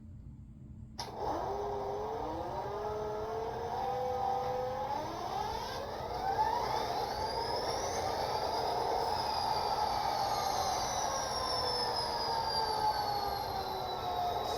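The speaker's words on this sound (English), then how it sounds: "this locomotive does start up when track power is applied, so I'm going to go ahead and turn it on right now" An HO scale Athearn RTR SD40-2 model diesel locomotive in Norfolk Southern Maersk livery starts up on track power, with a rising whine and tonal sweeps over a steady idling rumble that then holds, loud and continuous with no talk.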